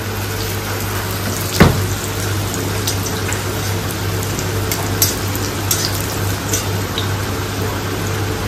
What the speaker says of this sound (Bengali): আর তার আগে মা একটু বড়িটা ভেজে নিচ্ছে